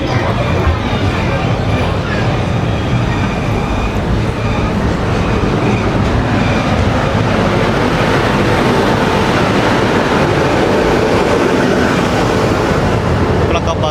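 Train 17248 leaving Tirupati railway station, a loud, steady rumble and clatter of passenger coaches heard from inside, with a voice talking over the noise.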